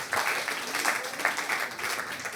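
Applause from an audience greeting Loïc Roche, academic director of the IGS group, as he comes on stage at a business leaders' colloquium in Avignon. A steady patter of clapping fills the room, with a faint voice mixed in.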